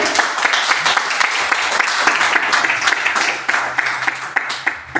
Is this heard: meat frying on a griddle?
no